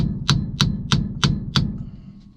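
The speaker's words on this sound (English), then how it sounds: "The hammer's there to help" Five evenly spaced, sharp metallic hammer blows ring out as a hammer strikes to loosen a 1960s GM steering wheel, close and loud over a steady low hum, followed by a quiet pause.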